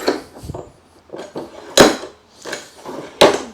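A newly built wooden workbench's vise is worked with a series of irregular knocks and clunks, two of them sharp and loud, close up with no talking.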